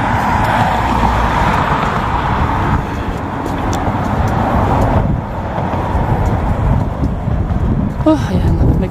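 Continuous roar of highway traffic with passing cars and steady wind buffeting the microphone, heard close by while walking along a street toward the crossing; no clear speech stands out.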